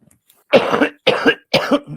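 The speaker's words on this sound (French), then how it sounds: "Je vais juste pas tousser en même temps qu'il parle" Three harsh coughs in quick succession, close and loud, each a short burst with a brief pause between.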